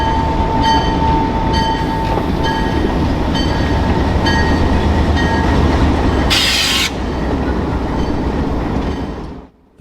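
A former Santa Fe "alligator" diesel locomotive, the long-nosed 2407, rumbles past at close range with a loud, steady drone and rail clatter, a brief hiss midway, then the sound drops away abruptly at the end.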